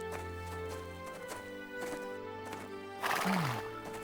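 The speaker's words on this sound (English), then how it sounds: "Help me climb on the horse, please." A white horse whinnies loudly near the end, its neigh falling in pitch, after steady hoof clops and harness sounds under a droning musical background.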